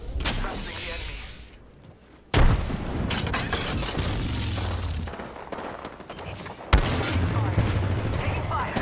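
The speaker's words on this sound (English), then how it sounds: "Taking fire." Gunfire and explosions in a shooter video game: dense bursts of shots with booming blasts, a sharp loud impact near the start and another later, continuing steadily under busy game noise.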